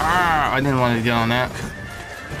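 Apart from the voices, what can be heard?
horse neighing in video game Berserk Band of the Hawk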